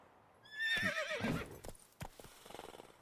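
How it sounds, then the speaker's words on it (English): A horse in The Witcher 3 video game gives a loud, wavering whinny, then its hooves clop and shuffle nearby in a few scattered beats. "Calm down, Roach"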